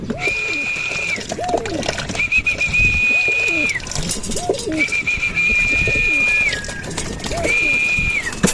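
Racing pigeons coo near the loft as they return from a 56-kilometer training flight in San Miguel, Bulacan, with repeated throaty coos alongside a steady high whistling tone in recurring bursts and faint voices in the background.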